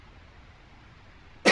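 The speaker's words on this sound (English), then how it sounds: "Excuse me for one moment, guys, while I cough." A single sharp cough bursts out loud and close at the very end, cutting off abruptly after a quiet stretch of faint room noise, with no talking.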